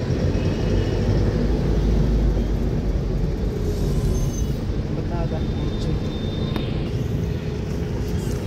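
Busy street traffic in Lanka, Varanasi: steady engine rumble and road noise fill the scene, with a horn-like tone and vehicles passing near, while people talk in the background.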